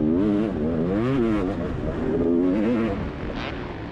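Motocross race with a big 500cc two-stroke and 450cc four-stroke bikes such as a KX450 and CRF450 on a drying, slick track, engines revving loud and continuous, rising and falling through gears.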